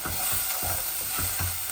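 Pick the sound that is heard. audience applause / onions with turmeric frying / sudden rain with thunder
onions with turmeric frying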